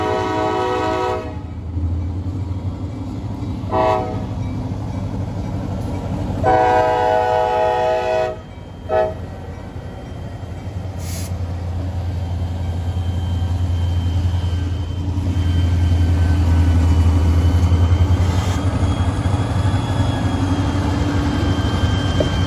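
A freight train rolls past a grade crossing, a steady heavy rumble close by while its horn sounds several long blasts over the passing cars, no voices.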